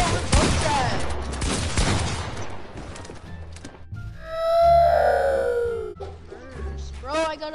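Burst-fire gun shots in a video game, several quick rapid volleys up front amid effects, followed by shouted and distorted voices.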